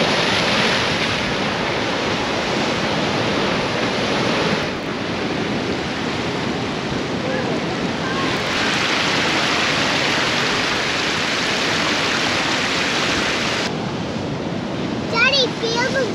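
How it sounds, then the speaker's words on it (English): Big ocean waves crash and break along the shore at Moreton Island, forming a loud, continuous roar of surf that dips briefly and then surges again, with wind over the microphone. "Big waves crashing over."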